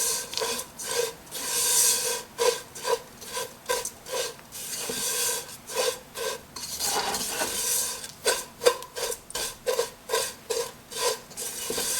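Vermicelli being roasted in a pan for a sweet Eid dish, heard as a utensil repeatedly scraping and stirring the dry strands against the pan in a steady back-and-forth rhythm, close and alone without talk.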